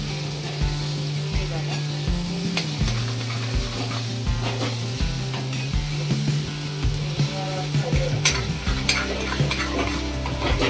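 A spoon stirs prawn masala as it roasts and sizzles in a pan, steady frying hiss with regular scraping strokes against the metal, close and loud throughout.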